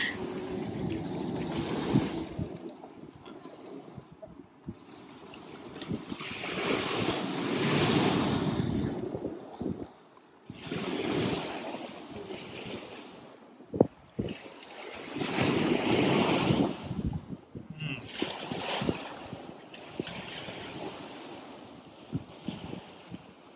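Sea waves wash onto a rocky Cornish shore in slow surges that rise and fall, with gusty wind buffeting the microphone and no voices.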